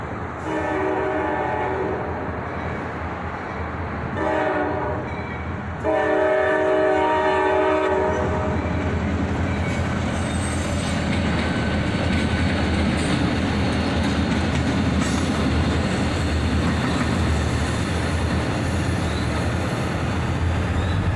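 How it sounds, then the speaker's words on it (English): A CSX track inspection geometry train goes past a crossing. A horn sounds in sustained blasts early on, then the loud, continuous roar and clatter of wheels on rails carries through to the end. "It was the CSX Track Inspection Geometry train."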